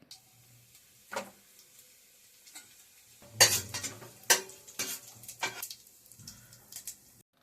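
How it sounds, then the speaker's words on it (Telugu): Whole cinnamon, cloves, cardamom and shahi jeera frying in about four tablespoons of hot oil in a pan for mushroom curry, with a quiet sizzle under several sharp stirring scrapes and utensil clinks that come in bursts, close by. "దానిలో దాల్చిన చెక్క లవంగాలు యాలకులు షాజీరా వేసి ఫ్రై చేసుకోండి"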